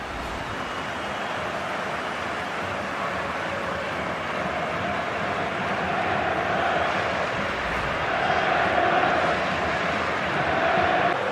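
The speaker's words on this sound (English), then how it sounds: "had the crowd on its feet" A stadium crowd in a FIFA 15 football match keeps up a steady, distant roar that swells slightly toward the end, with no speech over it.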